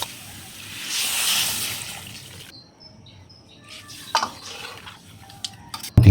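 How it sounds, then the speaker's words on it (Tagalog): Broth poured into a pot of sautéed tomatoes and miso for sinigang sa miso: a steady rushing pour, then light clinks and scrapes of pot and utensils, no talking. "So ayan, nilagyan na po natin ng sabaw."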